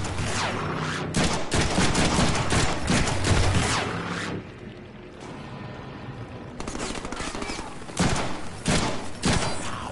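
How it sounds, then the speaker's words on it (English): Rapid, dense bursts of ray gun fire in a Deadpool video game rattle loudly and close, broken by a quieter stretch in the middle and then resuming in sharp volleys. "Some kind of ray gun?"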